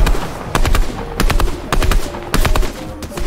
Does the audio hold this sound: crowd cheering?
no